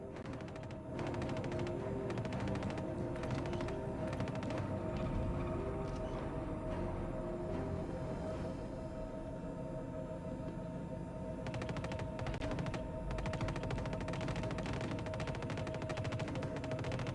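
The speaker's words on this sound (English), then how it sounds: "Where are these guys shooting at me from?" Enemy weapons firing in Star Citizen: a sustained stream of loud automatic gunfire carrying on steadily, with heavier bursts near the start and again toward the end, and no speech.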